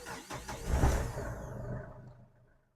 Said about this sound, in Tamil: ஸோ இன்ஜினுமே நல்லா தான் இருக்குது.